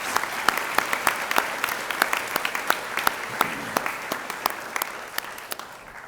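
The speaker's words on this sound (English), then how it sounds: "Edison and Marvin, let's give them another big round of applause for their remarks" At an academy convocation, an audience applauds two student speakers with steady crowd clapping, sharp individual claps standing out near the front before the sound thins toward the end.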